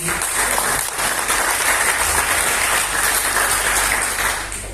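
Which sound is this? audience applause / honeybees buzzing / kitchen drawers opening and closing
audience applause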